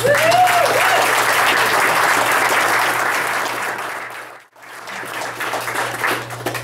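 Audience applause at a pitch event, a dense burst of clapping that fades briefly to near silence, then picks up again at a lower level.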